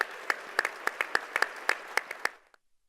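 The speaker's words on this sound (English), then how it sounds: "please join me in another round of applause for Chancellor Jones and our magnificent deans" Scattered clapping at a university luncheon honoring the chancellor and deans, a thin round of distinct individual claps, fairly close and moderately loud, tapering off and stopping after a couple of seconds.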